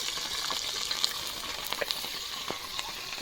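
Green chillies fry in hot oil for jackfruit biryani, giving a soft, steady crackling sizzle with scattered little pops, fairly quiet and close, with no talking.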